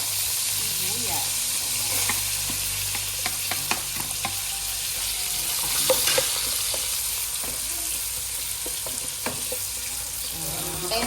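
Garlic and onion sauté in melted margarine, a continuous sizzle broken by repeated scraping and clinks of a spatula stirring the pan, close and fairly loud, with no one speaking.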